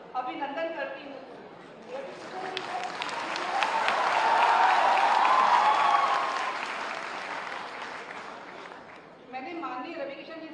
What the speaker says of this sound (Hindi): रवि किशन जी से पूछा कि आप क्या करते हैं, ऐसे हाथ हिलाते हो ताली बज जाती है